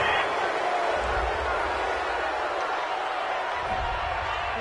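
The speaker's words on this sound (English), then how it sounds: "This home crowd, they're happy with that call." Simulated home crowd at a Madden 20 NFL football game, reacting after a penalty flag on a fourth-down incomplete pass: a steady, broad stadium roar with swells of cheering, loud and continuous throughout.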